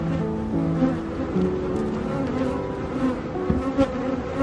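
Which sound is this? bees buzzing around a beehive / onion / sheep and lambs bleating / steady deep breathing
bees buzzing around a beehive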